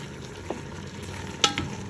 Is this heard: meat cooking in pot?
yes